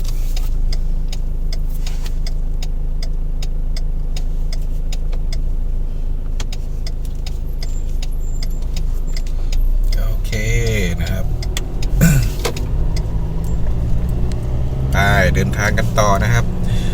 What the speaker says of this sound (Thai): รถบรรทุกนะครับ รถบรรทุก รถแมคโครนะครับ เข้าไปก่อนเนาะ